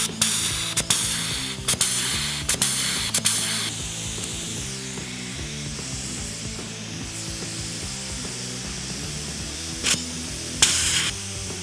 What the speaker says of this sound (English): I purchased this pneumatic riveter at Harbor Freight.